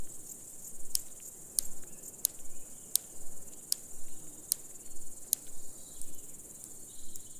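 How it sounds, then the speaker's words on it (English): A large marsh grasshopper sings in a moorland bog, sharp ticking snaps of its hind legs repeating at a steady rhythm over a faint hum of insects and wind, close and alone. "Large marsh grasshoppers are easily recognisable by their song, which is produced by a rhythmic snapping of their hind legs."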